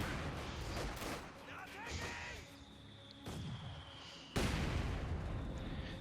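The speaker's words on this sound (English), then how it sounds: "Mortar fire there." Mortar rounds thump and burst in Company of Heroes 2, a World War II strategy game, with several sharp explosive hits spaced across the scene, one louder blast near the end, and a commentator talking underneath.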